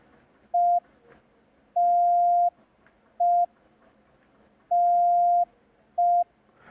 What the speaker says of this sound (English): it is very important to learn ending signal, AR bar